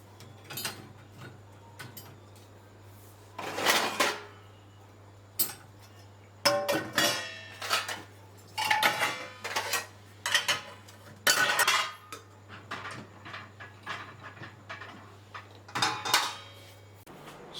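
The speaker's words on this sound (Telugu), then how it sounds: "సో చూస్తున్నారు కదా ఎన్ని గిన్నెలు నేను లోడ్ చేశాను" Dishes and utensils clatter as they are loaded into a Bosch dishwasher, with repeated close clinks and knocks of metal and ceramic coming in irregular bursts, separated by short pauses.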